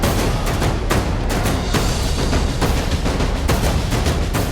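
A missile strike by Israel blows apart a luxury villa in Yemen where a meeting was being held, heard as a loud, sustained roar of blasts and crackling gunfire-like bursts with no talking.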